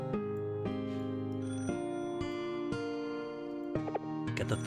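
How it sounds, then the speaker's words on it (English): A telephone rings in a cooking and restaurant-management video game set in an izakaya, its repeated electronic tones riding over steady, bright game music with no talk. "Get the phone first."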